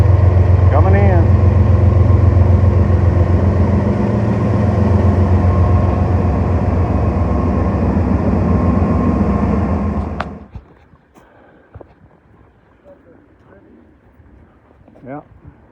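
A train pulls in alongside a canal in Maryland, its steady loud engine rumble and rail noise holding for about ten seconds before cutting off abruptly, leaving quiet background with faint sounds after.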